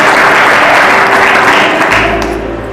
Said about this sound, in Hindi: ताली बजाकर प्रभु की महिमा करें